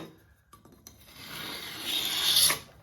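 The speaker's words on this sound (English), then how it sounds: "So you can really just gently rub it down the edges." A sanding tool rubs down the sprayed corners and edges of a surface being prepped for decorating. The scraping starts after a few light knocks and grows into a close, steady rasp before it stops abruptly.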